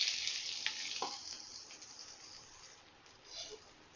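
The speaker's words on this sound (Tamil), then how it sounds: "பூண்டு போட்ட உடனே வந்து பாத்தீங்கன்னா பொரிய ஆரம்பிச்சிருச்சு" Garlic sizzling in hot oil in a pan, a steady bright crackling fry with small pops, fairly close and continuous, easing slightly then swelling again near the end.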